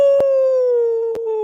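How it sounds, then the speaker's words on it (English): A wolf howls in one long, steady, slowly falling tone that dominates the clip, heard alone and fairly close, with two brief sharp clicks breaking in. "That's a wolf. That's no dog."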